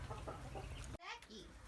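Young chickens cluck and peep in a coop shared with ducklings, soft and close, under someone talking, with a short pause before a few higher calls.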